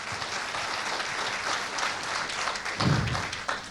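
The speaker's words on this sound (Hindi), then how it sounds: "इनके सवाल के लिए एक जोरदार ताली।" Studio audience applause at a televised Indian political interview: a sustained, fairly faint burst of clapping that fills the whole moment, swelling slightly near the end, with no speech over it.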